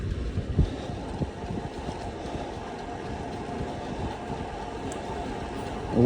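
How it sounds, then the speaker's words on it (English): Wind rushes steadily past the microphone on a bike ride along the Lake Wobegon trail near a small lake, making a low, constant rumbling roar with faint rattles and bumps underneath. "The wind is a little bit at my back."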